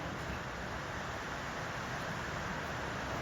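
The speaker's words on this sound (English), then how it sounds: "That was until we hit a bit of a downpour." Heavy rain downpour outside a ceramics studio, a dense, constant wash of hiss with no individual drops standing out, steady and moderately loud throughout.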